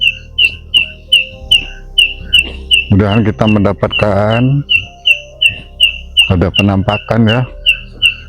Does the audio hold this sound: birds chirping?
yes